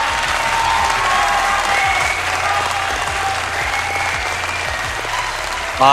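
A crowd cheers and applauds in a loud sound effect played during a tabletop roleplaying game session, a continuous roar of clapping with voices beneath it that ends abruptly.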